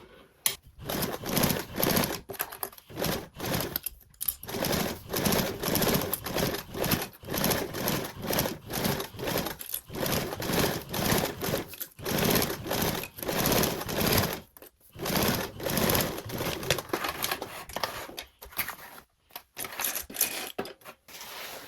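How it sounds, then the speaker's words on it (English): A home sewing machine top stitching a joined seam on a tote bag, running in steady bursts of rapid mechanical chatter with brief pauses between runs, close and fairly loud with no talk. "Now you can top stitch that join seam with a 1/8 seam allowance."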